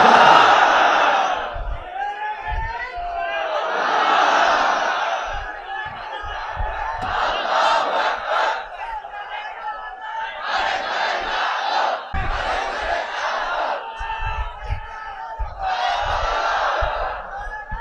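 A large crowd at an outdoor Quran tafsir mahfil roars the takbir in unison, a loud chanted call-and-response that comes in repeated surging waves of massed voices over about eighteen seconds.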